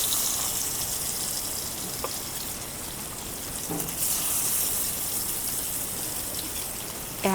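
Pieces of silver carp fry in oil in a pan with a steady, hissing sizzle. A few faint clinks are heard near the end.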